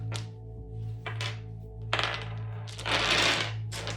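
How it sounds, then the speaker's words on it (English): Dice tossed during a tarot-style energy reading, giving several bright clattering bursts as they bounce and roll on a hard surface, ending in a longer rattling spill, over a steady low hum. "Let's see what the dice have to say."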